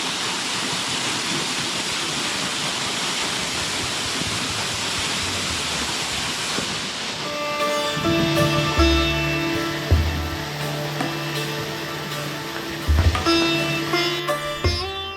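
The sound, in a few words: small roadside waterfall near Murai, Chitral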